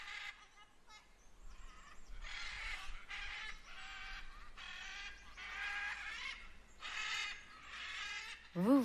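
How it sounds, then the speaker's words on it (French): Parrots squawk in a natural spot near Lorient in southern Brittany, giving about eight harsh, raspy bursts at a steady pace, moderately distant, followed by a brief rising tone at the very end. "Le bruit des perroquets est un tout petit peu moins mélodieux"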